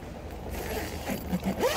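Zipper on the window of an iKamper Skycamp 2.0 rooftop tent fitted to a SsangYong Rexton Sports, a short close rasp drawn in one pull, lasting under two seconds, no talk.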